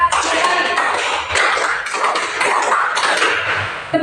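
Primary school students in an Indonesian classroom clap a counted pattern together, sharp unison claps in short grouped bursts, close and fairly loud.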